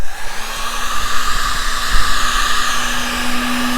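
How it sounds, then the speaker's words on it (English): A heat gun blows steadily while heating wiring on a Honda Shadow motorcycle, a continuous close, loud airy roar with a rising whine that settles into a constant tone, running alone without talk. "when you're doing it and you have a heat gun, you want to make sure you don't overheat it because you can melt it"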